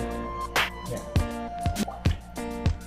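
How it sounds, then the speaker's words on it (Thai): Water drips from the ceiling of a cave at a Thai temple, about six distinct drops falling at a slow, fairly regular pace, each one landing close by with a clear, ringing plink in a quiet, echoing space. "มันจะมีน้ำหยดขึ้นมา จากข้างบนนะครับ"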